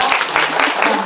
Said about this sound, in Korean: 정리를 잘해주신 우리 수아원장님한테 박수 한번